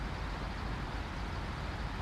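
A logging truck in a video game drives along, its engine producing a dense, steady low rumble with broadband road noise that stays unchanged throughout.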